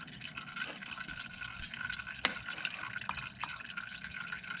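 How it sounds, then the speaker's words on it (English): Used engine oil drains from a car's oil pan into a container, a steady trickling pour with small drips and splashes, close by and fairly quiet, no talking. "Quit comparing your oil pan, draining oil to a Keurig."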